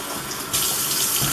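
Water from a faucet-like stream pours into a hydration bladder reservoir being filled from a stream, a steady broadband rush that swells louder midway and keeps flowing alone.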